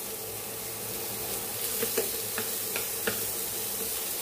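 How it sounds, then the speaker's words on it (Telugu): Chana dal, mustard seeds and cumin fry in hot oil with a soft, constant sizzle, broken by a few sharp crackling pops as the seeds spit, close and without voices. "1/2 టేబుల్ స్పూన్ శనగపప్పు 1/2 టేబుల్ స్పూన్ ఆవాలు జీరా వేయించుకోవాలి"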